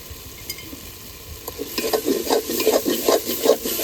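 Tomato sautéed in oil and stirred in a pan for egg pulao sizzles quietly at first, then rhythmic scraping stirs grow louder and busier over a steady close fry.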